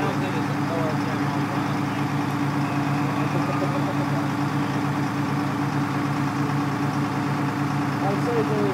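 A supercharged Detroit 6V53 diesel in a 1986 Chevy one-ton 4x4 runs on a dyno, giving a loud, steady, droning mechanical roar at constant pitch with no pauses.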